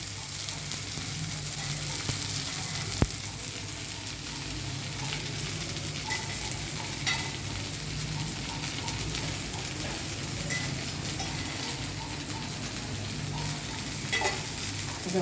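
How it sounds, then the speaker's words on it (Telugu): Curry leaves sizzle in hot oil for mint chutney, a steady close crackling fry that holds throughout, with a single sharp clink of a utensil early on. "కొంచెం కరేపాకు కూడా వేస్తున్నానండి"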